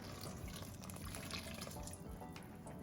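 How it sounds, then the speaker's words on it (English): A little water is poured into a pan of chicken and rice, a soft continuous trickle and splash, faint and close, with no talk over it. "And I'm going to add just a little water"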